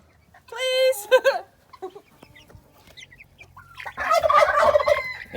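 Farm birds by a meat chicken pen call out with gobbling, clucking cries, a brief burst early on and a louder, denser stretch near the end, mixed with faint sounds of people nearby.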